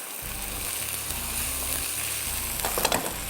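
Ginger and garlic fry in a pan with a close, steady sizzle, and soft stirring scrapes and clicks come through near the end.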